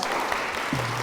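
A Catholic congregation at a Holy Spirit seminar claps to welcome a priest, a brief dense burst of steady applause filling the whole short moment, with a faint low tone sliding in near the end.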